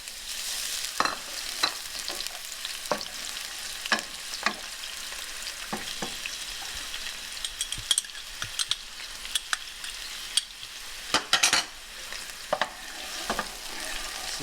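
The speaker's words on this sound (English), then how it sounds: "I'm going to add my onion and my garlic and let that saute for a minute or 2" Onion and garlic sauté in hot olive oil, crackling in a soft steady sizzle, with irregular sharp scrapes and clicks of stirring scattered throughout.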